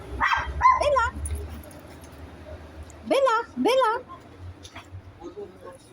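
A dog barks in short, sharp bursts, a couple of yips early and then two louder barks a few seconds later, close and clear with a little background noise.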